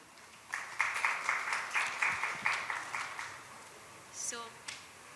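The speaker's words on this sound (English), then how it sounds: "So huge round of applause for the audience" An audience at an out-of-home advertising industry panel forum claps in a short burst of applause that lasts about three seconds, then fades away into room noise with a brief voice afterward.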